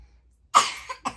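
A small child coughs close by: one harsh, loud burst, then a shorter second cough a moment later.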